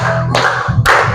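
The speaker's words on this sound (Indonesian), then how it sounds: "Tepuk tangan." Hand clapping during singing at a church gathering, two broad claps roughly half a second apart over a low sung or hummed tone.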